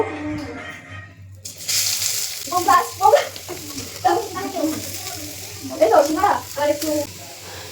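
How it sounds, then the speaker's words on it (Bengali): Grated boiled papaya sizzles and fries in ghee in a wok for papaya halwa, a loud crackling hiss broken by bursts of stirring and scraping, with a voice talking over it. "দেন এই কড়াইয়ের ভিতর আমি ঘি দিয়ে দেবো। আমি এই যে গ্রেট করে সিদ্ধ করে নেওয়া পেঁপেগুলো আস্তে আস্তে কড়াইতে দিয়ে দেব।"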